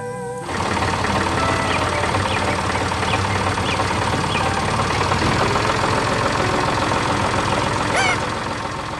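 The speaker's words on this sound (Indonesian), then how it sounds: "Dengan suara mesin yang tenang, traktor itu menggerakkan tanah dan menanam kehidupan baru." A yellow tractor engine running on a farm, a steady, continuous mechanical drone with rapid knocking pulses that starts abruptly and holds at even loudness, close by and alone.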